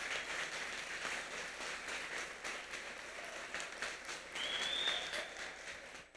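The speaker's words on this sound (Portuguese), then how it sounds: "irmão Ângelo, irmã Sheila, queria um aplauso, Jesus, por esse casal" Applause from a church congregation during a Baptist service, a steady wash of clapping filling the hall for several seconds, moderately loud, with a brief whistle-like tone near the end.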